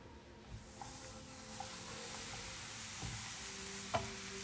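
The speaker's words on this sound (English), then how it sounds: "And you just let it cook for, 3 minutes until you get those classic little tortilla brown spots" A homemade tortilla cooking in a pan, giving a faint, steady sizzle with a few soft taps of a spatula.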